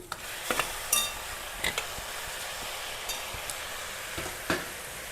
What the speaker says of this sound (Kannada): ಈರುಳ್ಳಿ ಫ್ರೈ ಆಗಿದೆ. ಇವಾಗ ಸೊಪ್ಪು ಸೇರಿಸ್ತಾ ಇದ್ದೀನಿ.